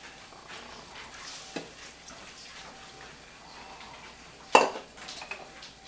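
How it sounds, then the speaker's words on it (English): A spoon stirs egg-free muffin batter made with substitute milk in a bowl, soft scraping followed by one sharp clink and a few lighter taps near the end. "Give it a stir."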